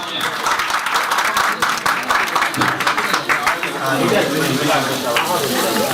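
A crowd of devotees claps heartily at a temple program for Hinglaj Mata, the applause dense, loud and continuous for several seconds, with voices rising through it toward the end.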